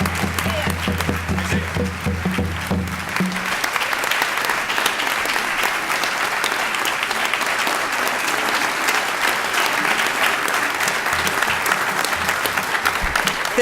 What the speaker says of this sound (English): So please keep that applause going